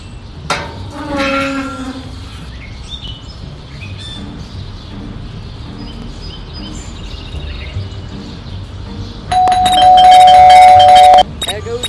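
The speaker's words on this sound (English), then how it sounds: "that stupid bell again" A doorbell rings inside the Scary Teacher 3D video game, a sustained electronic tone near the end that sits over quieter game sounds and an earlier short chirping cue.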